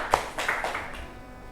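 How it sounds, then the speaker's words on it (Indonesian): A classroom group of students claps briefly in a few scattered bursts, close and uneven, fading after about a second with no talk over it. "Kita beri tepuk tangan sama-sama."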